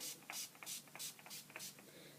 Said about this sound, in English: But this is the Urban Decay All-Nighter Makeup Setting Spray.